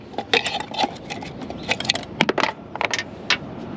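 A small hand tool, dropped while swapping the EVAP purge solenoid on a 2010 Honda CR-V EX-L, clatters and jingles in a cluster of bright metallic taps and rattles before going quiet.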